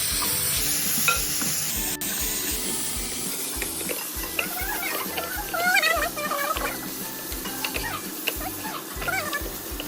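Beef fries in a pan with a continuous crackling sizzle while a ladle stirs it in repeated scraping strokes. Faint background music plays underneath.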